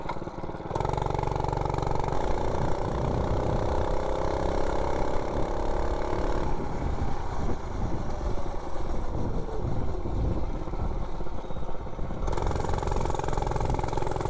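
A 98cc minibike engine with its governor removed and timing advanced starts up and accelerates hard from a standstill toward 30, a loud continuous buzzing drone that climbs in pitch and shifts midway.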